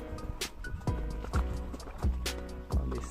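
Big Marwari horses walk along a quiet country road in India, their hooves clip-clopping in a steady, close rhythm, with a faint whinny and a few light background sounds.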